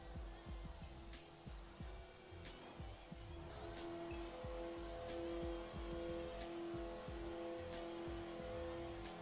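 A 2017 Abarth 124 Spider in Forza Horizon 4 drones steadily under acceleration, its engine tone holding and slowly rising over a rumbling, bumpy road noise for several seconds.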